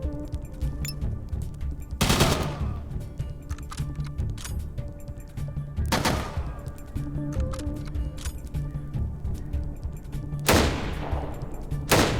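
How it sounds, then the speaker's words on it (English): Gunshots in the post-apocalyptic role-playing game ATOM RPG: Trudograd: three loud, sharp reports spaced a few seconds apart, ringing out over a steady droning game soundtrack, with no voices. "we get 3 shots off now"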